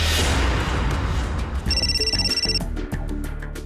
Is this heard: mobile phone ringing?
yes